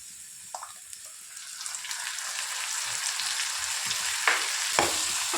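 Tomato paste hits a hot pan for homemade butter chicken, a steady frying hiss that builds and holds, crackling throughout, with a few soft stirring knocks near the end and nobody talking.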